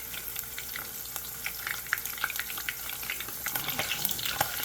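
Breakfast sausage links sizzle and crackle steadily in a frying pan, a dense bed of fine popping with scattered sharper spits, close and moderately loud, with no talking.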